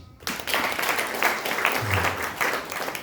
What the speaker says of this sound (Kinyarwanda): mwikomera amashyi